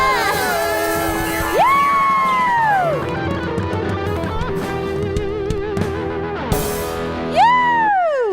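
A Carols by Candlelight 2022 concert crowd cheers for the house band, with loud whoops and rising, swooping yells over a steady bed of crowd noise and lingering music.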